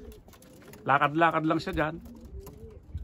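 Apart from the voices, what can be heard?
pigeons cooing on a landing board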